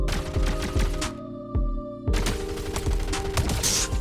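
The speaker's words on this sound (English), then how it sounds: "I just followed that guy all the way down with the SMG" Submachine gun fire in a shooter video game: bursts of rapid, sharp shots, a brief pause with a single shot, then another fast burst, loud and close with no speech.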